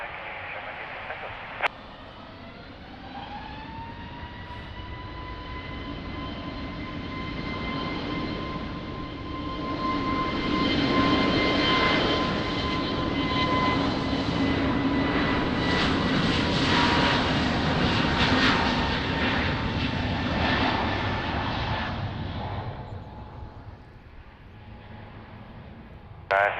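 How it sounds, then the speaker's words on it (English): An Airbus A320 jet departs from runway 20 at Lisbon Airport. Its engine roar builds from a distant whine with steady tones to a loud, broad rush and then slowly fades as it climbs away. "Airbus 320 departing now, runway 20"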